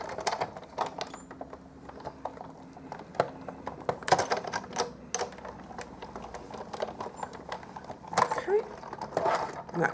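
A hand-cranked die cutting machine pushing a stitched circle die and card through its rollers, giving rapid clicking and ratcheting ticks with louder knocks, while a person talks over the mechanism at times.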